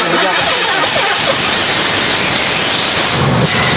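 An Impala lowrider's engine turns over and catches, settling into a loud, rough running rumble nearby.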